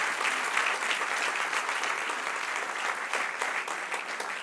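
A church congregation applauds during a worship service, a continuous, even wash of many hands clapping at moderate volume with no speech over it.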